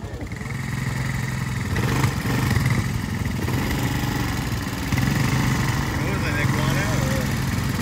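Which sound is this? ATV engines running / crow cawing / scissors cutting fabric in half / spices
ATV engines running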